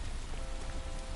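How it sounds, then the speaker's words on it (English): Rain falls steadily in the video game L.A. Noire, a dense even hiss of drops on surfaces, filling the short moment with no other sound. "It's raining."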